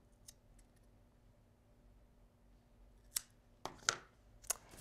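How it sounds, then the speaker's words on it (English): Scissors cut off yarn edges on a fiber weaving, with a few faint early snips followed by four crisp, close cuts near the end in a quiet room, with no talking. "I'll make one more loop like this, and then I can cut the edges off"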